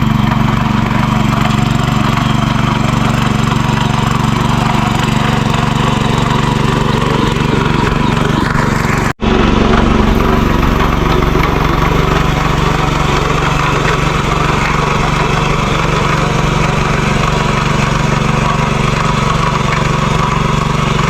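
A tractor engine runs steadily while working a sown field, a loud continuous low drone with a momentary dropout partway through and no speech.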